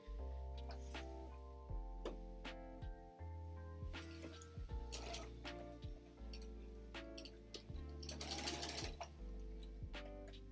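Sewing machine stay-stitching a pleated inside-out bag, heard close as repeated bursts of rapid mechanical clatter with ticking clicks and pauses between runs, plus a faint voice now and then.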